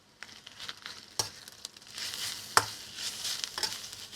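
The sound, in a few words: sautéing boiled bottle gourd in ghee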